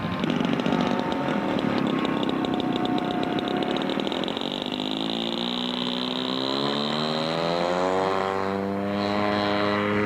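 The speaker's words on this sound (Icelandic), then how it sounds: "Við vélinni er mótoragerðinni Supertiger 90." A model airplane with a Supertiger 90 engine flies at an airshow, its propeller engine droning loudly and steadily, then pitching and sweeping as it passes overhead, with no voices.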